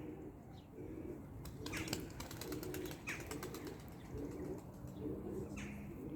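A pigeon, a female blue Ayna Kuyruk, flaps its wings in flight in a few quick bursts of fluttering, faint and somewhat distant, amid soft cooing and chirping from other birds.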